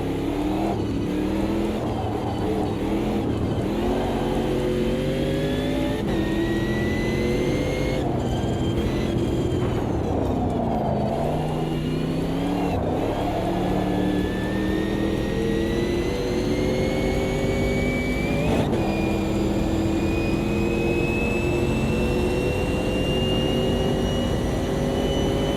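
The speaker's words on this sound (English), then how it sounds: "Look at that whining. Has this got a supercharger on it? Or is it turboed?" Race car in a sim racing game, its engine whining loud and close with rising and falling supercharger or turbo pitch as it revs and shifts through gears, continuous and without any talking.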